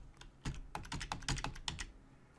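Quick bursts of keystrokes on a computer keyboard while entering values in an Excel spreadsheet, a close, crisp run of about a dozen taps with no talking.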